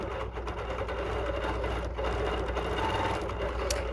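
A Bernina Q16 longarm sewing machine runs steadily during free-motion quilting, its rapid mechanical stitching hum continuous and close throughout.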